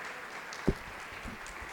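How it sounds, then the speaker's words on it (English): An audience applauds a panel of teachers at a language faculty event, a soft, steady patter of clapping throughout with one brief louder knock. "A big round of applause to all these teachers."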